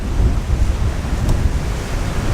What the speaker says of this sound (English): it always gets really windy in this town and big waves happen